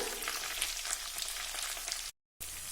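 Onion and moong dal frying together in oil for a snake gourd poriyal give a soft, even sizzle close by. The sound breaks off in a short silent gap, then resumes.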